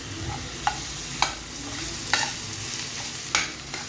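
Chopped onion and curry leaves fry in hot oil in a pan, a steady sizzle broken by several sharp scraping stirs of a spatula, close and moderately loud with no talking.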